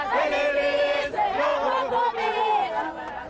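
Crowds along the road to Qunu celebrate as Nelson Mandela's coffin arrives for burial, many voices singing and ululating together in loud, wavering chants with short breaks.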